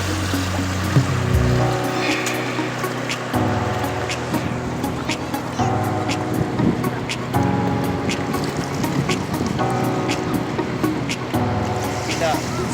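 Clams are washed by hand in water for a traditional Tamil clam curry, with repeated splashing, sloshing and clattering shells in irregular bursts, close and fairly loud, while someone talks over the work.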